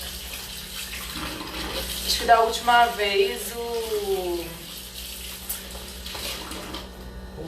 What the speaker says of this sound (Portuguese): o barulho da água não atrapalhou muito não, espero que não atrapalhe